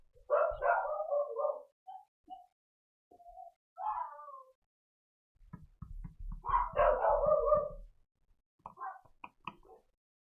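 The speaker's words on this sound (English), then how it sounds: "The small one has learned how to join in with the dogs freaking out already" Dogs bark indoors right behind a door, with a small pup joining in, in several separate bursts of shrill barks and yelps with quiet gaps between them.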